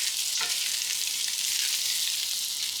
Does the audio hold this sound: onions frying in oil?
yes